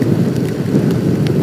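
Steady heavy rain on a road to Bromo via Lumajang at night, a dense continuous hiss with low rumbling, loud and close throughout with no talk.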